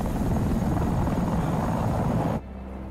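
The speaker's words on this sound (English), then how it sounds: "I'm not just gonna stare at just like a random helicopter and just stand there, you know?" Loud, steady helicopter rotor and engine roar in Batman: Arkham Knight, close and continuous, cutting off abruptly near the end to a quieter hum.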